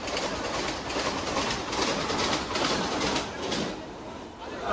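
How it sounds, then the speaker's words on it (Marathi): A Vande Bharat train rushes past at a busy Mumbai station, a steady loud rumble and rolling rail noise that holds throughout, easing slightly near the end, with crowd chatter mixed underneath. "चला बघा वंदे भारत ट्रेन."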